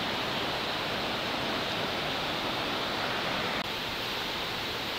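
Waterfall at Khao Chamao National Park in Rayong, Thailand, pours in a loud, constant broadband roar seen from a bridge, steady and close with no breaks or voices.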